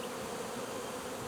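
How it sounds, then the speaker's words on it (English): A swarm of honeybees near three hives hums in a dense, continuous drone, soft and even with no voices. "it's a bunch of bees"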